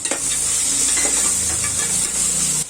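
Vegetables and cashew nuts sauté in hot oil in a pan, with a steady close sizzle and hiss and soft stirring scrapes running throughout the preparation of meal maker pulao.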